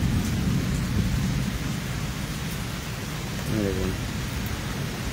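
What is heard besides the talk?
thunderstorm with heavy rain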